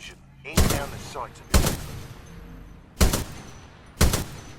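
Four loud gunshot bursts from Titanfall 2 combat, evenly spaced about a second apart, each a sharp crack with a short ringing tail over low game ambience.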